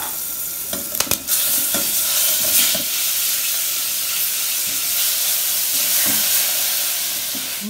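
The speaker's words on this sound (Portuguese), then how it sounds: "Aqui eu vou colocar umas duas colherzinhas de óleo. Duas colherzinhas pequenas de chá de alho picadinho." Chopped garlic frying in a little oil for a green corn soup, a continuous close sizzle and hiss with a few clinks and stirring scrapes near the start.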